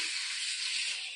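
Pointed gourds (potol) frying in oil give a soft, steady hiss that lasts about a second.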